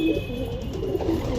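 Pigeons at a loft coo close by in soft, repeated throaty calls over faint background noise.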